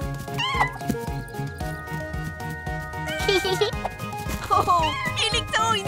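Cartoon cats meow repeatedly at a cat obstacle course, rising cries mixed into a children's animated scene with music and voices, some meows apparently voiced by a person imitating a cat.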